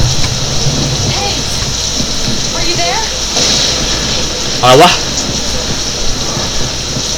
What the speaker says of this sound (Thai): ฝนตกซะแล้ว